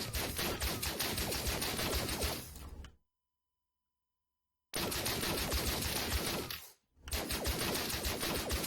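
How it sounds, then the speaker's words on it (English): Rapid automatic weapon fire from a third-person cover shooter built in Unreal Engine 4, loud and sustained, stopping dead for about two seconds, then resuming in two bursts split by a brief gap. "if I go ahead and start firing our weapon"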